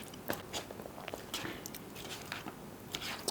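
Teeth crunch into Taco Bell kimchi fries topped with sour cream, tomatoes, kimchi and nacho cheese, a few crisp bites followed by quiet close chewing, with no talking.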